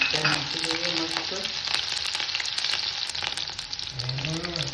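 Green chillies dropped into hot oil give a loud, crackling sizzle close by, steady throughout, with faint tonal clinks in the background and no talking.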